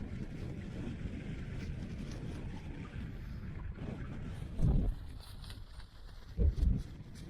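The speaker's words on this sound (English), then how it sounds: "It's been so windy all night long." Strong wind batters a camp on a mountain ridge on the Isle of Skye, a steady rushing roar broken by two loud, close gusts thumping against the microphone.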